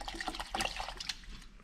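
Liquid cleaner glugs and splashes as it is poured from an overfilled can during restoration work on a Honda Big Red 250ES, an uneven run of close, wet spattering that tapers off at the end.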